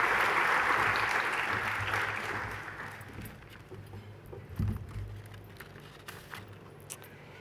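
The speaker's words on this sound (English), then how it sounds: "Please give all of our principals a big round of applause as Natalie does the honours." An audience at an education awards presentation applauds the school principals, a loud burst of crowd clapping that gradually thins and fades, followed by a few scattered knocks and shuffles.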